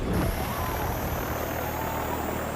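A small propeller plane in an anime roars loud and close as it pulls a Cobra maneuver, a steady, dense engine drone with a high whine on top.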